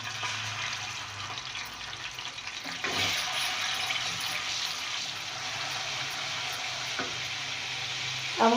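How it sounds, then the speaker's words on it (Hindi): Garlic and ginger paste fries in a pan with a steady, close sizzle that holds throughout, with a few faint clinks as it is stirred. "तो फिर मैं लहसुन अदरक का पेस्ट डालकर उसे भून लूँगी।"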